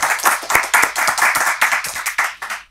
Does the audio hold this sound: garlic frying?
no